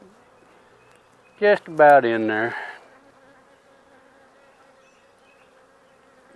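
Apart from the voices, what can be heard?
honeybee swarm buzzing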